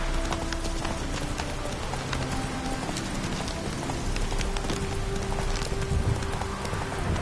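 Roach the horse's hooves in the video game The Witcher 3 give a steady, even clip-clop of hoofbeats, heard close over soft sustained in-game music tones.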